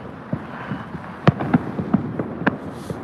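Firecrackers and fireworks popping in a public park in China, a string of sharp cracks at irregular intervals, several loud and close, others fainter, over a hazy background hum.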